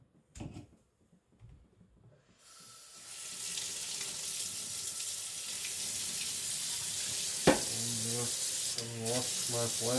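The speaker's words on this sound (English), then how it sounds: "Wash my plate now" Running water pours steadily as a diamond sharpening plate is washed and scrubbed under the tap, a continuous splashing rush that starts after a few quiet seconds and carries on to the end, with brief clatters at the start.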